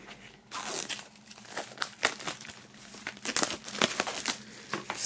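Plastic shrink film is peeled off a CD digipack from a Blutengel Un:Gott box set, crinkling and crackling in close, irregular bursts of varying loudness, with no voices.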